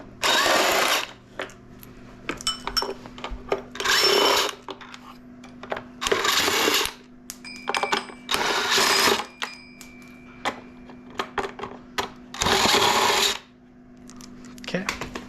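An impact or power tool spins out 10mm bolts from the upper cover of an RB25DET engine, sounding in about six loud, near bursts of roughly a second each, with quieter workshop clatter between them.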